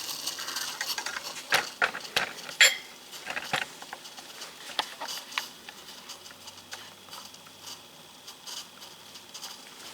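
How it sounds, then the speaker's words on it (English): Water boils on a stainless steel Esbit stove in a pot, giving a quiet, uneven patter of small bubbling ticks and clinks, close and faint, with no talking. "we have a good solid rolling boil"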